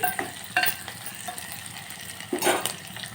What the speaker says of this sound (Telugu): చూడండి ఆయిల్ ఆనియన్ అయితే ఫ్రై అయ్యాయి